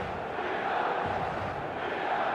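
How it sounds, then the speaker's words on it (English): Dense stadium crowd roar from an eFootball match day fills the air, a steady, broad wash of massed voices with no distinct peaks. "The stadium is full of noise and energy."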